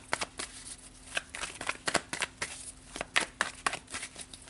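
A deck of tarot cards is shuffled up close in quiet, crisp riffles and soft slaps. The rhythm is irregular and gentle, and no one speaks.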